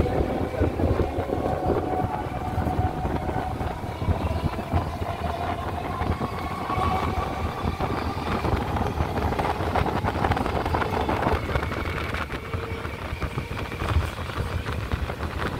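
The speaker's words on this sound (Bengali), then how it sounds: "গোবরা স্টেশন থেকে আমাদের ট্রেন ছেড়ে দিয়েছে বন্ধুরা" A suburban passenger train running steadily after pulling out of Gobra station, with a continuous close rumble and rattle of wheels on rails plus wind buffeting the microphone, unbroken throughout.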